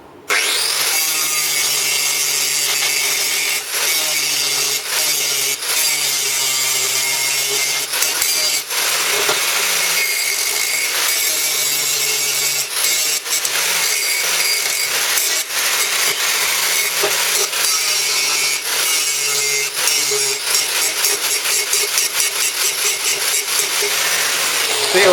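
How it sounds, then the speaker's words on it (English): An angle grinder smooths the edges of plasma-cut steel plate, a steady, loud, high-pitched whine that runs continuously throughout with brief scraping variations and no talk. "I'll grab a grinder and I'll just smooth them out"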